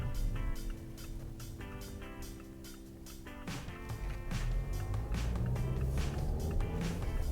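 A 2017 Mazda6 drives around a curve, its engine hum and road noise steady and moderately quiet inside the car and swelling slightly partway through.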